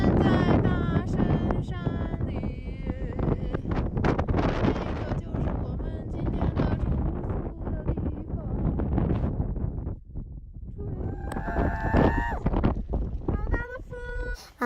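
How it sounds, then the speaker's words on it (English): Strong wind buffets the microphone at Mount Everest Base Camp in Tibet, a loud continuous broadband roar with gusts throughout, while a person talks over it. "It's so windy"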